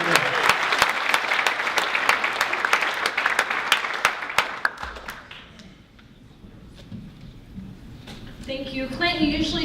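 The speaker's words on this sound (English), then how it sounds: "Give her a round of applause." Lively applause from the audience at a startup conversation event as an entrepreneur is welcomed to the stage, with sharp individual claps standing out, then fading after about five seconds into quiet room noise and talk.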